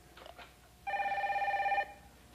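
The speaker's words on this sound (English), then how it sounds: "you better get that phone" A telephone rings once indoors, a single bright trilling burst of about one second after a brief faint sound, with quiet room tone around it.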